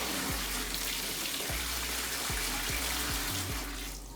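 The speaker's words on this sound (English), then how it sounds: "I'm pouring my dye into a bigger container with some more water" Fabric dye and water poured into a bigger container, a constant rushing stream of water close by, with a few low thumps as the vessel shifts, steady throughout and slowly easing off at the end.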